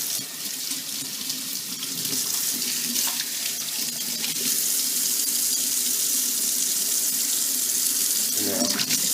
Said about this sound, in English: And now put cold water in there